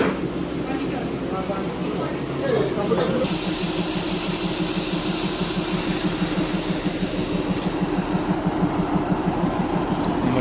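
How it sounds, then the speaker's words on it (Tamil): A toy train engine idling at a station on the New Jalpaiguri to Darjeeling line hisses steadily with a loud rush of steam, over a low rhythmic chugging pulse, with faint voices nearby. "ட்ரெயின் பாருங்கள் டாய் ட்ரெயின் நிற்கிது"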